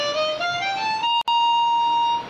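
Harmonica played picking out single notes: a clear sustained reedy tone sliding upward, broken by a brief breath gap, then held steady near and alone.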